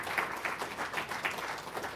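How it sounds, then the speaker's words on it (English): Audience applause at a farming policy event, a steady patter of many hands clapping at moderate distance for about two seconds, with no talk over it. "Round of applause."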